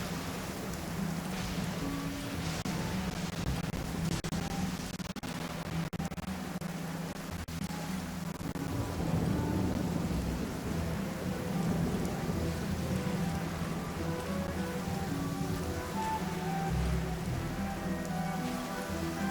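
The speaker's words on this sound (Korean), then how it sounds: "비가 오는군. 번개는 신이 인간에게 내리는 심판이라는 전설이 있어." Steady rain with low rumbling thunder in the video game Genshin Impact, a continuous even downpour that fills the whole stretch at moderate level with no talking.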